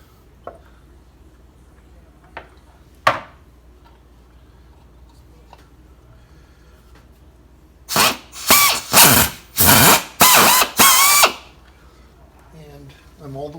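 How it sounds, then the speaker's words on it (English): A power drill bores a hole through a Stihl chainsaw's stripped spike mounting screw thread for repair, running in a series of about five loud, close bursts with short pauses between them, after a few faint clicks. "Make sure my drill's in forward."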